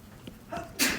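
A single sharp sneeze bursts out loud and close near the end of a short stretch in a lecture room, after quieter background murmur.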